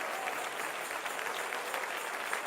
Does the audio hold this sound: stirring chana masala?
no